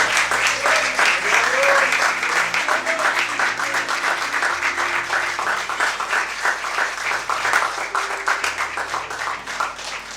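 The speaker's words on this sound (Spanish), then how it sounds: "Dale un fuerte aplauso." A church congregation at a 2019 congress breaks into loud, sustained applause that fills the whole stretch, with cheers and a voice rising briefly within it.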